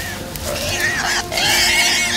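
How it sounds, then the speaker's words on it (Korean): Distant high-pitched wild boar squeals and grunts as hunting dogs fight it, rising over a rough, noisy outdoor background, growing louder toward the end. "멀리서 멧돼지 울음소리가 들려오고"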